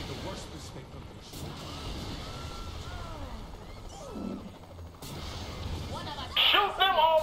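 Gunfire and crashing action in the video game Saints Row 3, moderate bursts under a continuous noisy game mix with voices talking throughout.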